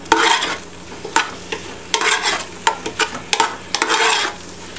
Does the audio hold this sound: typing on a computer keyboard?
no